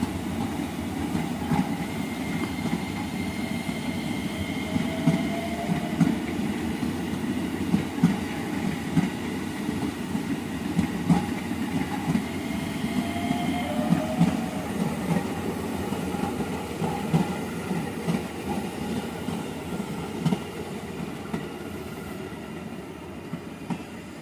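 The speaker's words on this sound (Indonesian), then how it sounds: "Di atas juga jalannya mindik-mindik nih teman-teman, komuter lain JR 205" A JR 205 commuter train creeps slowly along the rails toward Matraman station, giving a loud, close, steady rumble with continuous clickety-clack of the wheels and faint squeals, and no talking.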